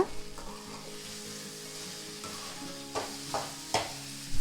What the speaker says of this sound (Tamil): அந்த இட்லியை இதில் ஆட் பண்ணிடலாம். சேர்த்துட்டு நல்லா கலந்து விட்டுக்கோங்க.